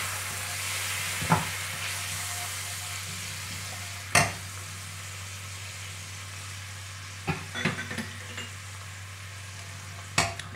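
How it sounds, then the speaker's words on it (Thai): Thai stir-fried noodles with water mimosa sizzle gently in a pan as a broth of water and seasoning powder goes in, with a low steady frying hiss broken by a few sharp clanks of a utensil. "ทีนี้เราก็มาตามด้วยน้ำซุปค่ะน้ำซุปของป้าก็จะเป็น น้ำเปล่าผสม ผงปรุงรสนะคะ"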